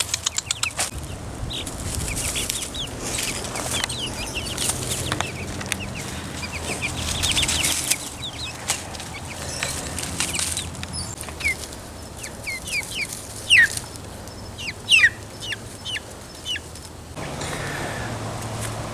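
Chickens cluck and squawk at close range in a coop, with wing flaps and scattered sharp calls over a steady rustling background.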